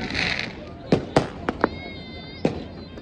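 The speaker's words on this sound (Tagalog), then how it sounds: "hindi rin kami makakita ng fireworks kasi masyadong foggy" New Year's Eve fireworks in snowy, foggy weather go off as a handful of sharp bangs and pops at a distance, irregularly spaced over a steady crowd murmur and wind-like hiss.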